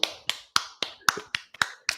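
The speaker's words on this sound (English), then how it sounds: "Clap it up for Akeem." Podcast studio guest welcomed with clapping, about eight crisp, evenly spaced claps or snaps heard close and alone.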